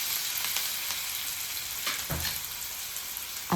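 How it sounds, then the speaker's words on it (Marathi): Chopped onion sautéing in a pan for an aloo matar curry, giving a steady, even sizzle of frying with a couple of faint stirring clinks. "चला आता आपण हा कांदा व्यवस्थित इथे परतून घेऊया"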